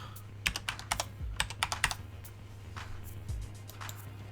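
A password is typed on a computer keyboard in clustered bursts of quick, crisp key clicks, close and fairly quiet, over a steady low hum.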